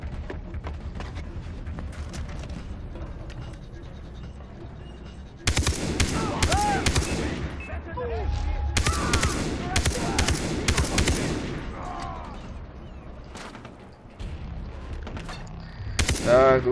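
Enemies firing guns at the player in Far Cry 3: loud bursts of automatic gunfire come in clustered volleys with short gaps, over a steady game background, with no talk.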